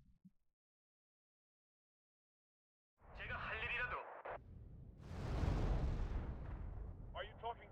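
Artillery and gunfire from the war strategy video game Wargame: Red Dragon, a heavy booming barrage that rolls into a loud, sustained explosive rumble after a silent stretch, with brief bursts of sharper crackling fire.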